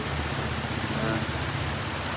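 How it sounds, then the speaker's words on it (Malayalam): Heavy rain pours down as a dense, even hiss that fills the whole recording. A voice speaks faintly beneath the downpour. "നല്ല മഴയാണ് കേട്ടോ"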